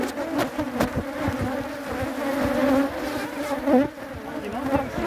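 A honey bee swarm drones at its hive, a dense close buzzing of many bees with individual wingbeats flicking past, steady and fairly loud with no talk.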